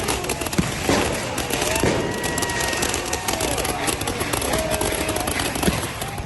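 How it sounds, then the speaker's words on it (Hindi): Fireworks set off by protesters toward police during a street clash in Georgia crackle and pop in rapid, irregular bursts, scattered sharp bangs over a dense, noisy crowd background throughout. "प्रदर्शनकारियों ने पुलिस की तरफ आतिशबाजी कर दी।"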